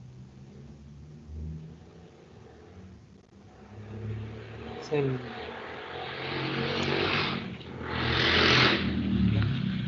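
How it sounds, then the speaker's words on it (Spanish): A motorcycle passes by outdoors, its engine rising from a low rumble to a louder revving roar that peaks near the end, while a voice briefly speaks over it. "justo pasó una moto ahí"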